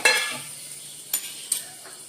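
Dried red chillies fry in hot oil with a soft, steady sizzle, broken by a few sharp stirring clicks of a spoon against the pan.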